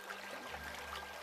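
A creek flows with a soft, continuous watery rush and trickle, faint and steady throughout.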